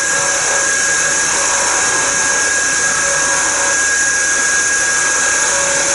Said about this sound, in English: So I use the long point of the skew chisel and I cut it down to about 1/8 of an inch.